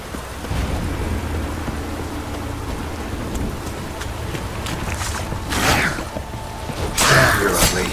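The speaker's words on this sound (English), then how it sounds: "This downpour's a bastard" Heavy rain pours down in a thunderstorm in The Witcher 3, a dense steady hiss with rumbling thunder swelling late, loud and close, with no talk.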